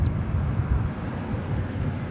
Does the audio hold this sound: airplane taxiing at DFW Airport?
yes